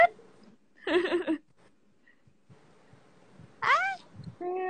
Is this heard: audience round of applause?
no